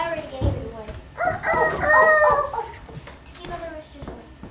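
A rooster on a small farm with goats and chickens crows in a drawn-out, harmonic call that rises and holds for about a second, with other farmyard noise and speech around it.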